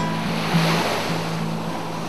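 Sea surf washes steadily against the shore on a December day along the coast, a continuous close rush of breaking waves with a low droning hum running beneath it.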